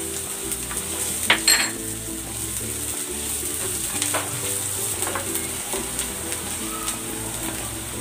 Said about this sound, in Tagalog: Igisa na natin tong bawang. Lagay na rin natin tong sibuyas.